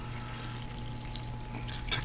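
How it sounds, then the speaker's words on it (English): Water being poured into a pan of turli tava, a Macedonian vegetable and meat stew, a quiet splashing pour that grows slightly louder toward the end, close and alone. "And then you're going to add water, and not a lot."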